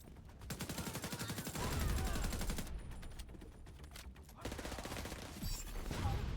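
Rapid automatic gunfire from a video game weapon, loud and rhythmic bursts with brief pauses between them, while voices talk over the shooting.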